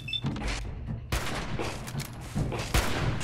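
Enemy gunfire in Fallout 4: dense, overlapping volleys of shots crack and rattle continuously at close range, with several louder bursts standing out.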